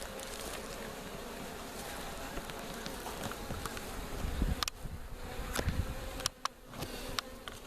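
Honeybee drones and workers buzz densely around an outdoor hive, a continuous close droning hum with occasional sharp passes near the microphone.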